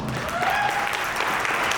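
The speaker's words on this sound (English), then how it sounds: "let's give a big round of applause" An audience claps for a speaker being introduced at an event, a brief burst of dense, sustained applause, loud and even throughout, with a faint voice briefly audible within the crowd noise.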